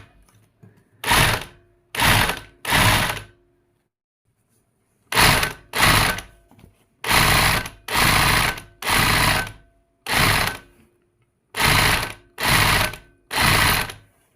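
A sewing machine runs in repeated short bursts, about a dozen even stitching runs separated by brief pauses, as an oval cord basket is stitched; the motor is loud and close, with no talk.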